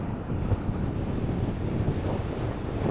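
Steady wind buffeting a microphone mixed with a low, continuous rumble of cars passing close by on a busy road, broadband and unbroken with no one speaking.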